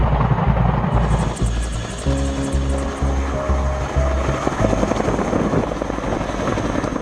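A massive US military CH-47 Chinook helicopter thunders close by with steady, heavy rotor chop and a constant engine whine, loud and continuous throughout, with no voices.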